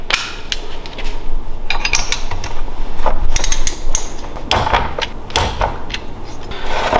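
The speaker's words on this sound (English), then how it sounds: "Going to do two head bolts diagonal from each other. We're going to torque them to spec." A torque wrench tightens the head bolts of a 212cc small engine to 18 foot-pounds, giving close, loud metallic ratcheting clicks and clunks in uneven bursts with no talking.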